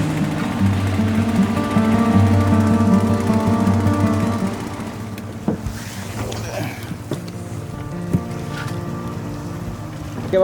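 Motorboat crossing between islands near Alor, its engine droning loud and steady with wind noise, easing slightly partway through.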